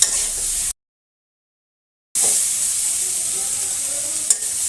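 Fish and vegetables with turmeric sizzling and frying in a pan for a katla fish, cauliflower and new potato curry, a steady close hiss broken by a short silent gap.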